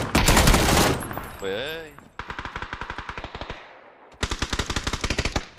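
Rapid automatic gunfire in PUBG crackles in two sustained bursts of evenly spaced shots, with a loud broadband blast and a voice shouting at the start.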